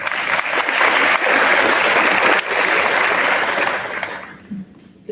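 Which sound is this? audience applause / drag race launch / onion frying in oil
audience applause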